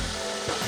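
Garlic and onion sautéing in a pan, a brief steady sizzle with light stirring scrapes, close and moderately loud with no talking.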